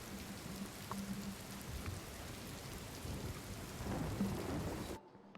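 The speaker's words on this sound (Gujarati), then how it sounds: "ક્યાંક વરસાદ તો ક્યાંક કરા" Heavy rain pours over Bhuj with rumbling thunder, a dense steady downpour close by with low rolls of thunder underneath, ending abruptly.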